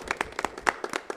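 A small group at a board meeting claps for a departing member, a sparse, uneven patter of individual hand claps close by.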